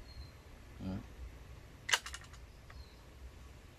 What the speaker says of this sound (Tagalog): Tapos ikasa natin.